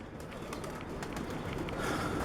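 Pigeons cooing softly amid a continuous rushing background noise, fairly close, with no voices.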